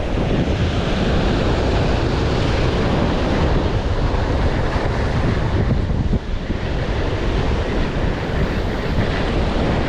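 Strong sea waves surge and crash continuously at close range, a loud, dense roar with heavy wind buffeting the microphone throughout and no speech.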